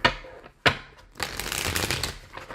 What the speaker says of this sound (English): 2 more shuffles for Super Chat answers